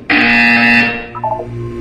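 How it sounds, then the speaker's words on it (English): A loud electronic buzzer in the video game Portal 2 sounds once for under a second, followed by a few quick softer tones over a low hum. "You will hear a buzzer."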